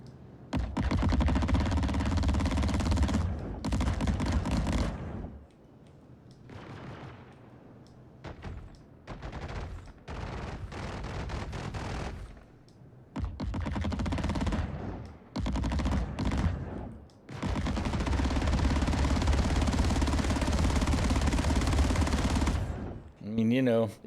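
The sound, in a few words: TMS B5 Gatling wing guns firing in Star Citizen video game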